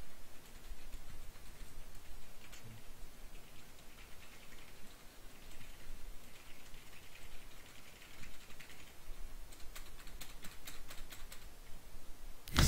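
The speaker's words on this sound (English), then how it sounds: "Do you hear me slamming my keys?" Computer keyboard keys being slammed during a game of Dying Light: a dense, continuous clatter of rapid keystrokes over about thirteen seconds, with a burst of sharper, harder hits near the end and no talking.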